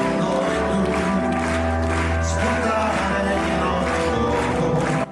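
Sustained audience applause at a concert in Teatro Pirandello, a loud steady wash of clapping from a full theatre crowd with music tones underneath, cutting off abruptly at the end.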